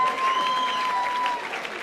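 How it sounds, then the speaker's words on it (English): Crowd applause rings out at a boxing event as a defeated fighter is honoured in the ring, brief steady clapping with a faint tone running beneath it and little talk. "give Tim a big round of applause here as gallant"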